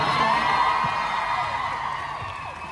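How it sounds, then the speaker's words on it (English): A crowd cheers and whoops loudly at a musical theatre convention show at ExCeL London, fading slightly as the noise carries on. "round of applause, please"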